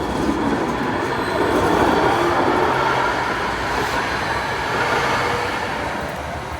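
Steady rumble of a Hudson-Bergen Light Rail train in motion, heard from inside the car, with a continuous rolling roar and no talking.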